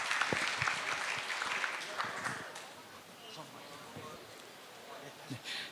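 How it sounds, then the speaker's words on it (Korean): Audience applause at a 2019 kinesiology academic symposium, scattered claps strongest at the start and thinning out, with faint background noise and a few louder bursts near the end. "큰 박수 부탁드리겠습니다."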